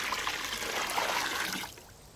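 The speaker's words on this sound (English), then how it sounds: "Here's the first pan of boiling water going in." Boiling water pours from a pan and splashes steadily for a couple of seconds, fairly quiet and nearby, then trails off.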